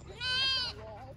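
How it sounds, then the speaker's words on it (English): A baby goat bleats once, a single loud, wavering cry lasting about half a second close by, followed by a softer trailing bleat. "So this is a good area for the goats to hang out too."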